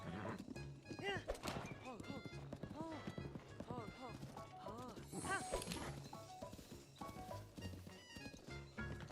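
Horses in the video game Breath of the Wild, clip-clopping hooves and repeated whinnies and snorts close by, mixed with game sounds and with a person talking over them.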